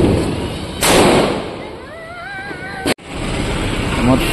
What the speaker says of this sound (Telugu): ఆ తర్వాత నేను ఇక్కడ క్రాకర్స్ అయితే కాలుస్తున్నా.